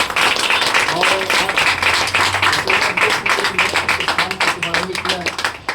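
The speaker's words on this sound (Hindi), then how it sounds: "एक बार जोरदार तालियां बजवा दें आपके लिए।" An audience claps loudly and steadily at the opening of a family natural wellness center, with a dense wash of hands lasting several seconds and voices faintly under it.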